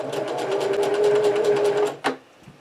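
A sewing machine stitches forward and then backward over fabric, a steady close whirring run with rapid needle pulses that stops abruptly, followed by a short mechanical clunk.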